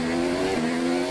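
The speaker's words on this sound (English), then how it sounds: "We engage the clutch, and then we go." An F1 car pulls away from a pit stop in the racing game F1 2019, with a loud, steady high-pitched engine whine that holds close and continuous, no talk.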